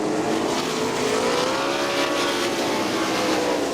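410 sprint car engines roaring during an AVSS race at Crystal Motor Speedway in Crystal, Michigan, a loud, continuous, rising and falling drone with pitch sweeps as the cars pass, with no talk.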